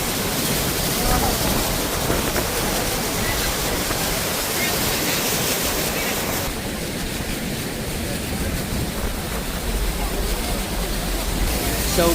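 Niagara Falls, heard from a boat tour near Bridal Veil Falls, produces a loud, unbroken broadband roar of falling water that fills the whole stretch evenly and drowns out any other detail.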